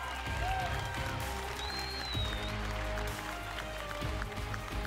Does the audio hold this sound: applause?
yes